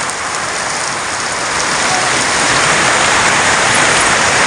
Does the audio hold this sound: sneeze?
no